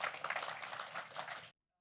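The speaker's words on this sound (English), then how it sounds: "Please give her a round of applause" An audience at a corporate conference session gives a guest a round of applause, a dense burst of clapping that cuts off abruptly into silence.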